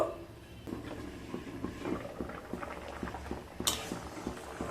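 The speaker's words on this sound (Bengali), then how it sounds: "এবার ডাল আর সবজিগুলোকে মিডিয়াম টু লো স্টিমে সেদ্ধ করে নেব" Dal with bottle gourd and vegetables simmering in a pot over medium-low heat for shukto dal, a quiet bubbling with soft pattering pops and a faint clink near the end.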